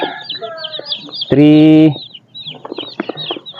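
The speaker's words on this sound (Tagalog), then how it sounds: "Pero bilangin natin, ang gaganda ng ating mga sisiw." Broiler chicks in a pen peep in a busy, high-pitched chorus of short chirps, with a person's voice briefly counting over them partway through.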